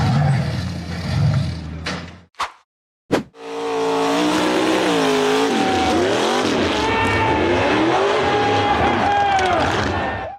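A white-framed off-road buggy accelerates hard up a steep rocky hill climb, its engine roaring loud and sustained with rising and falling revs after a brief pause, close and continuous throughout.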